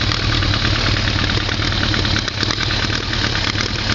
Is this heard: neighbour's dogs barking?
no